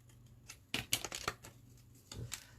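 Scissors cutting paper to shape a minibook tab, a few quiet snips and rustles in short bursts, close and faint.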